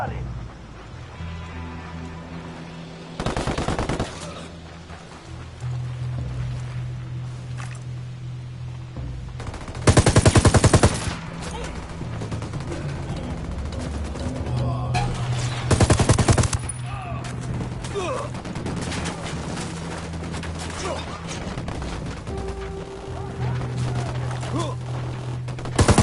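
Gunfire in Ghost Recon Wildlands, with scattered bursts of automatic rifle fire and heavier volleys spread across a long stretch of game ambience, while voices talk in the background.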